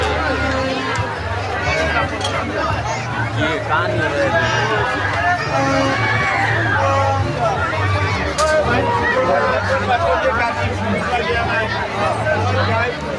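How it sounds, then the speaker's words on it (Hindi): Dense crowd hubbub near a busy overbridge market by a sweet shop, a steady wash of many overlapping voices and chatter filling the whole span, close and loud, with a nearby voice briefly speaking. "भीड़ तो देखा भीड़ आया भाई"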